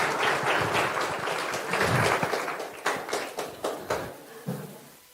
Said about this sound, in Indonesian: Beri tepuk tangan buat penanya-penanya kita.